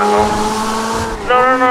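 Car in GTA braking hard and turning, tires squealing loudly with a sustained high-pitched screech over the engine, rising in pitch near the end.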